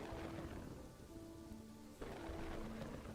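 Steady rain pours across a waterfront medieval town in the Kingdoms and Castles building game, a dense continuous hiss with a low rumble beneath and faint tonal game music drifting through, fairly quiet overall.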